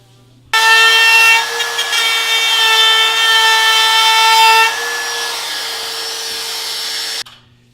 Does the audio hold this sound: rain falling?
no